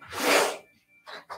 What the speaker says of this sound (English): I also might sneeze a lot.